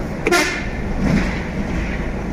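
A short, loud Ford F-MAX truck horn blast sounds over steady engine rumble and road noise, with no talking.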